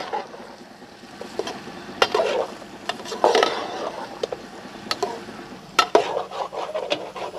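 Vegetables being stir-fried and tossed into Chinese fried rice in a hot pan, giving a steady clattering scrape and sizzle with louder bursts of stirring, close and continuous, without talk.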